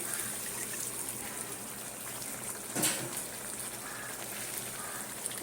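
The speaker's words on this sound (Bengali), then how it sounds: "যে মশলা বাটি যে মাংস বাটিতে করে রেখেছিলাম ওই বাটিটা ধুয়ে জলটা দিলাম" Rinse water from a meat bowl is poured into a cooking pan, making a continuous close splashing gush with one brief louder splash midway.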